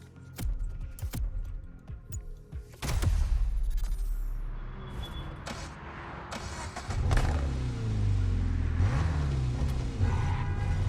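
Engine revving from a car in The Crew Motorfest, a Honda Integra DC2 or Toyota GR86, with crackling exhaust notes, repeated throttle blips and sustained revs rising and falling across the clip, loud and close with no talk.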